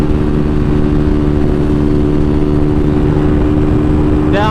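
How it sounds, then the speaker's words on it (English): A Kawasaki KLX300SM 300cc dual-sport supermoto runs at highway speed, near 90 mph, with a constant loud engine drone mixed with wind roar and no pauses. "this is a 300cc, basically dual sport supermoto that'll do 90 miles an hour with ease."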